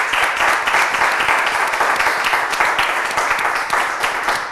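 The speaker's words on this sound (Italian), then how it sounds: "Facciamo un bel applauso a Ride" A quiz show studio audience applauds, with dense, even clapping that holds at the same loudness throughout and no other sound breaking through.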